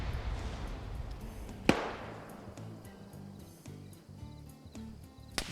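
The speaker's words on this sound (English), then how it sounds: "Got some gunfire over here." Two sharp, distant gunshots ring out a few seconds apart in a military combat video game match, over quiet ambient outdoor noise with faint insect-like chirping and no talk.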